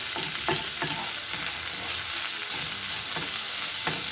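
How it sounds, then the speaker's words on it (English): Garlic cooking in a pan for mashed potatoes, a steady broadband sizzle of frying with soft stirring clicks and scrapes recurring throughout, close and even in level, no voices. "So we'll cook this until our garlic is ready"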